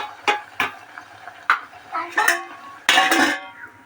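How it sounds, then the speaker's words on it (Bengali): Prawns are stirred in a pot, with several sharp clanks and scrapes of a utensil against the metal at uneven intervals and a longer burst of scraping near the end, close and fairly loud. "একবার আমি খুলে নেড়ে দেব"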